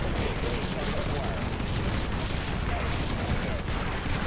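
Gunfire in the video game Infested Planet as units shoot at turrets, a thick, steady barrage of overlapping shots and blasts with someone talking over it.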